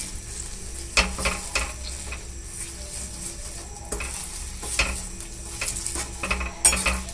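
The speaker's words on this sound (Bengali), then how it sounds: "এবার কিন্তু আমাকে নেড়ে নেড়ে ক্যারামেলটা তৈরি করতে হবে" Caramel cooking in a pan is stirred with a utensil, giving irregular close scrapes and taps over a soft continuous sizzle.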